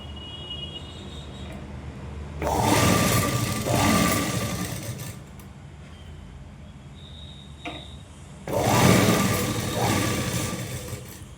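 A sewing machine stitches a square-neck blouse in two loud runs of steady mechanical whirring, separated by a quieter pause with faint handling sounds.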